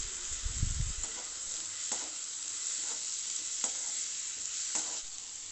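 Chopped tomatoes sautéed with onion and garlic in a pan give a faint, steady sizzle, with a low thump near the start and a few soft stirring scrapes scattered through, no talk.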